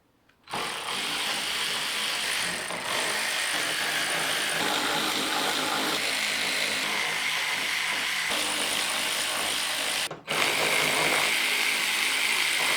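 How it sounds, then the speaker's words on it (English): An electric ratchet fitted with an 8mm socket whirs continuously at close range while removing the oil cooler from a BMW, with a brief stop near the end before it starts running again. "Got myself an 8mm on the end of an electric ratchet"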